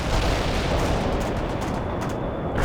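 Battle in World in Conflict unleashes dense, continuous gunfire and explosive booms, a loud, unbroken wall of combat noise.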